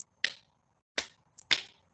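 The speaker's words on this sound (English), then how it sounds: "Let's do the Joker clap." A slow, deliberate Joker clap, three separate sharp hand claps spaced well apart, close and crisp against silence.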